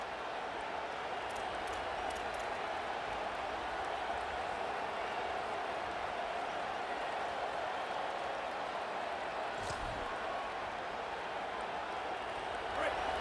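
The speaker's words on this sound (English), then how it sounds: "This crowd, full throat, splitting the eardrums and letting them know it's going to be a long day." A packed stadium crowd roars steadily in the EA Sports College Football 27 video game, a continuous dense wash of cheering, with a commentator talking over it.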